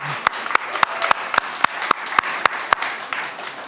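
An audience at a piano talk in the IKEA museum applauds with a steady wash of clapping, punctuated by sharp, regularly spaced rhythmic claps standing out close by.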